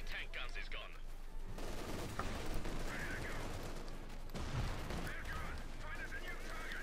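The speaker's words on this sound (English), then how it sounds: "Machine guns are plenty, just suppressing all of his troops." Machine gun bursts rattle through a Company of Heroes 2 battle between Wehrmacht and British forces, dense rapid crackling fire with scattered impacts running steadily throughout, with faint talk mixed underneath.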